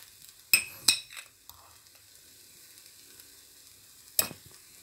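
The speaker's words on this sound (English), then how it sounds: "Now we will mix this." Noodles with oyster sauce and sugar are stirred in a hot pan, with a soft sizzle beneath a few sharp utensil clanks against the pan, spaced apart, with quiet gaps between them.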